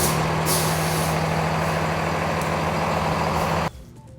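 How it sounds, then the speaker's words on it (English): A fire department truck fitted with snow chains pulls forward, its engine rumbling loud and steady up close before cutting off abruptly near the end, with no talking. "So now we'll have the driver go ahead and pull forward about 10 feet."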